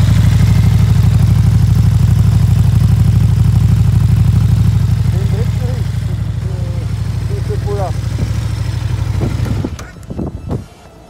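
A 2020 KTM Super Duke GT motorcycle idles loudly and close through its exhaust, a steady low rumble that softens slightly partway through before cutting off near the end.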